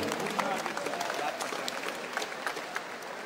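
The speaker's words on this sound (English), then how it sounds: "Let's give a round of applause to our two warriors inside the ring." A boxing crowd at an IBF world eliminator bout claps for the two fighters in the ring, steady, dense applause with scattered crowd noise throughout.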